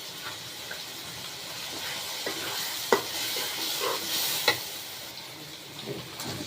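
Fish cooking in a pan with tomato and powdered milk, sizzling softly and steadily while a utensil stirs and scrapes, with a few sharper clinks standing out above the frying hiss.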